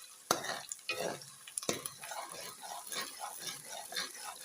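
Garlic and ginger paste being fried with half-browned onions in a pan, with a soft sizzle under repeated scraping and stirring of a utensil; two sharp knocks near the start, then a steady rhythm of stirring strokes, fairly quiet and close.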